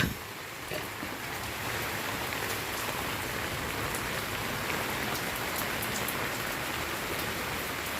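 Steady early-morning rain pours continuously onto surfaces, a dense, even hiss with scattered drip patters, close and unbroken throughout.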